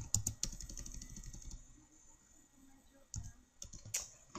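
Typing on a computer keyboard, with bursts of rapid close clicks, a quiet pause in the middle and then more scattered keystrokes, no voices heard.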